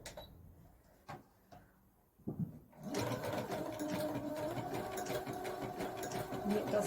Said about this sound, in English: it does 2 stitches on the fabric and 1 stitch over that bar, and then secures